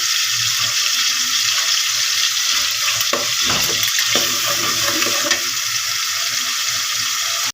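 Tomatoes frying in a pan for an egg and potato curry, giving a steady, loud broadband sizzle that runs unbroken throughout, with a brief stirring or clatter in the middle.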